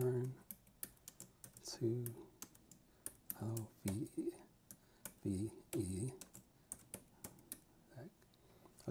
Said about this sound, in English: Okay, the keyboard feels pretty good.